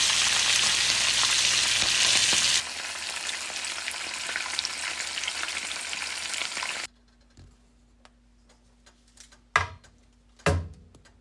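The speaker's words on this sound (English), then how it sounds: "here's my fish frying" Loud, crackling sizzle of fish frying in hot oil for escovitch fish, dropping in level partway, then quiet with a few sharp clatters near the end.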